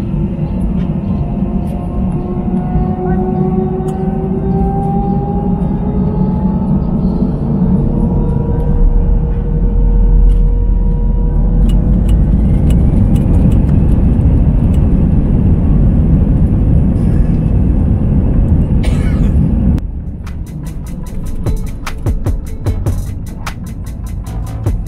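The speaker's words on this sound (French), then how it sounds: "Je vous laisse le son pour le décollage." Airbus A320-214 takeoff roll from inside the cabin: a loud, steady engine roar and rumble with a rising whine that builds for about twenty seconds, then drops to a quieter, smoother hum after liftoff.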